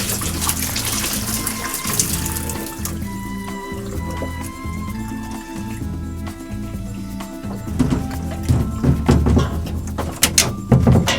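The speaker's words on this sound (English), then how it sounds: "And dump out the boiling water." Boiling water pours and gurgles out of an opened homebrew beer keg in a continuous splashing stream, getting louder and more spattery toward the end.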